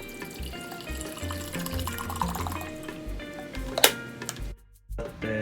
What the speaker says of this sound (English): We're going to put some filtered water in here.